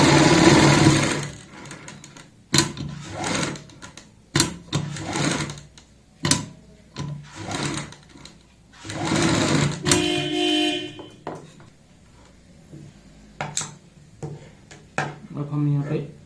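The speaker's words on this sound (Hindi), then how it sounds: "बुकरम के साथ साथ सिलाई लगानी है" A sewing machine stitches a kurti neckline along with buckram in short, stop-start bursts, mixed with fabric handling and clicks, while a person talks at intervals over the work.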